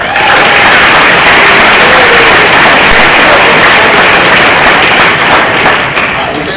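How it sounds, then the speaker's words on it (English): An audience at a high school JV and 9th grade football banquet applauds loudly and steadily, with dense clapping filling the room for several seconds. "Give yourselves a round of applause."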